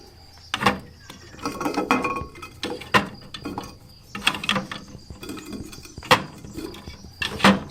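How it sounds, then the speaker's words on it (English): Eggs set one by one into a plastic incubator egg tray on a Portuguese homestead, giving soft scattered clinks and knocks at irregular intervals, close and fairly quiet. "Just pop the eggs in, and you want to make sure that the eggs can actually move around"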